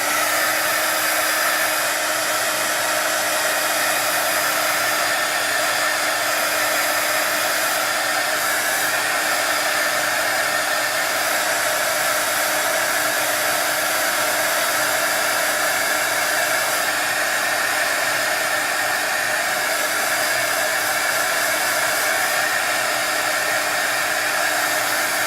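A hair dryer blows over an acrylic painting, a loud, close, continuous whooshing hum that holds steady throughout with no voices.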